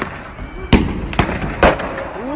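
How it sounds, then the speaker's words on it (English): Fireworks launched at a police van in a Sheffield street on Bonfire Night, three sharp loud bangs spaced about half a second apart, with whistling streaks and crowd noise in between. "we see a gang of people launching fireworks at a police van in Sheffield"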